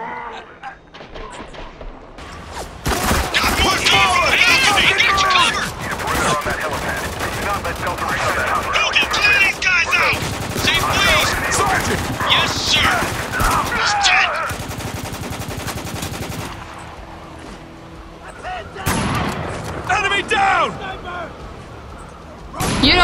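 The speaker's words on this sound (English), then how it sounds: "Stop shooting me!" Heavy gunfire in the video game Spec Ops: The Line: a dense, loud, continuous battle of overlapping automatic bursts and impacts, with players shouting over it throughout.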